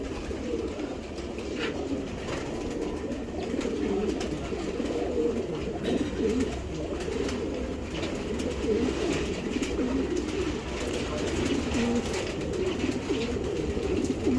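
Grizzle pied racing pigeons, cock and hen, cooing nonstop close up, a dense layered murmur of low rolling coos with no talk over it.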